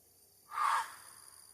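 A fox gives one loud, harsh scream at night, a short rasping burst that sounds close against a quiet background with faint insect hiss.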